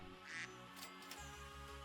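A cartoon duck in the Super Auto Pets video game gives a single bright quack over quiet game music, short and clear.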